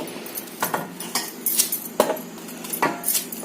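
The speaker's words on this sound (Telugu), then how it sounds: "ఇట్లా అన్ని కాయలు కూడా చెక్కు తీసి ముక్కలు తరిగి పెట్టుకోవాలి" Diced mango pieces for Andhra-style sun-dried magaya pickle clink and clatter in a steady run of close knocks, with several sharp bright impacts spaced through the clip and no talking.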